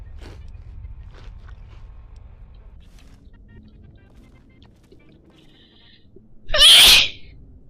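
A single loud, close human sneeze bursts out near the end after a stretch of quiet low background noise.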